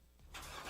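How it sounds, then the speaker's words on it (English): A Chevrolet Corvette sports car engine catches and fires up from quiet, then settles into a steady, fairly soft running note with no one talking over it. "You hear that? That's the sound of America's only sports car."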